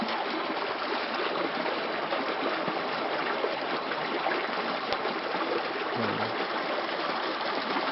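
Water rushing over rock rapids mid-river on the Mekong at Ban Muang, Sangkhom district, a steady broadband roar that holds even and continuous throughout with no voices.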